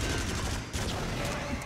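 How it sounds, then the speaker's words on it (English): Rapid gunfire from the shooting game Until Dawn: Rush of Blood, a dense continuous volley of shots filling the short moment at steady loudness with no voices heard. "I'm just gonna keep shooting at you this time"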